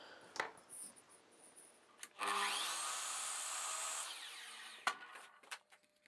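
A wooden spline for a mitre saw station stop block is trimmed to length: a few light knocks, then about two seconds of close, sustained sawing, followed by scattered taps and clicks.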